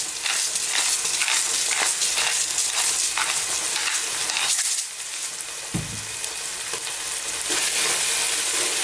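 Chicken pieces seasoned with salt and black pepper frying in a pan over fairly high heat for kabsa, a steady close hissing sizzle with occasional stirring clatter, no voices.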